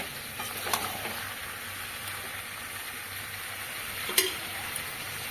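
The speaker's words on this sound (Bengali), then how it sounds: "মাটনের হালকা একটা দারুণ রেসিপি করছি এখানে পেঁপে আলু দিয়ে আমি মাটনটা বানাবো" Mutton with papaya and potato cooks in a pan, a steady soft sizzle with a couple of faint stirring clinks, no talk.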